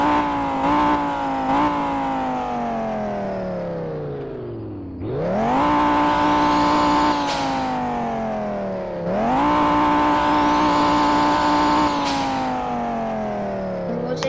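A car engine revving in the Driving Empire video game, rising in pitch through long pulls, dropping back and climbing again twice, loud and steady throughout.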